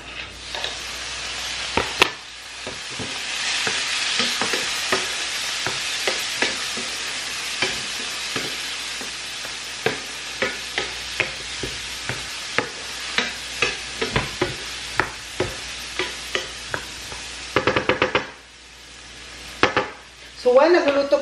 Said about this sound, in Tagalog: Tsaka ilagay ko na din ang kamatis.